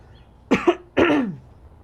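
A person coughs close to the microphone, two short harsh bursts about half a second apart in an otherwise quiet room.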